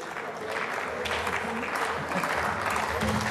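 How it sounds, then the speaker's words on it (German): Steady applause fills the chamber of the Austrian parliament, a dense, continuous clapping from many hands throughout, with murmured voices mixed in. "Und dafür gibt es einen Applaus, glaube ich."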